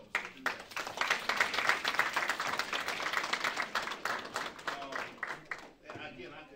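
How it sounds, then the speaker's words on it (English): Audience at a community arts school student government inauguration ceremony claps in a dense, lively burst that swells then tapers off, with voices mixed in and a quieter tail at the end. "you all deserve a round of applause today for yourselves"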